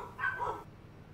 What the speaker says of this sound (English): Oh my gosh, the dogs.